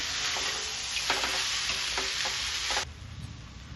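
Okra with chilli powder frying in a pan for bendekayi palya, a bright continuous sizzle broken by several rhythmic stirring scrapes, close up, then dropping quieter near the end with no voices.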